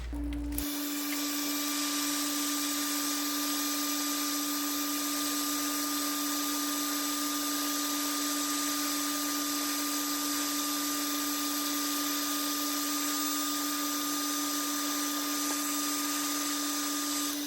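A heat gun blows on a heat-shrink handle on a wrench, a continuous, even whirring hiss with a steady whine that runs loud and close for the whole stretch after a brief start.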